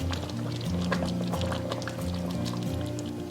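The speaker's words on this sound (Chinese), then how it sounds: "然后淋一点点芝麻香油增香" Sesame oil drizzled into a pot of century egg and lean pork congee, a soft steady pouring trickle over the low bubbling of the simmering pot, close and continuous.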